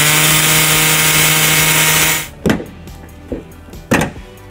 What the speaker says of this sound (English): and we're gonna use an air saw.